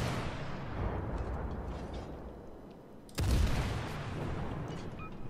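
Naval guns firing rounds in the World of Warships game, a steady rumbling battle din broken by one loud, close boom about halfway through, followed by a lingering roar.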